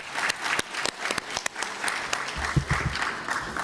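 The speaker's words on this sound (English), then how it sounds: "I'm sure they would need a round of applause from all of us." Applause from a conference audience at an international conference in Dakar, thanking panel speakers; steady clapping with some sharp individual claps standing out and a low rumble of movement near the end.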